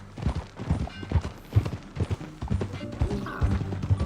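Horse hooves clip-clop at a walking pace in Red Dead Redemption 2, a rhythmic series of close, thudding steps with tack rattle and faint game ambience, no talk over them.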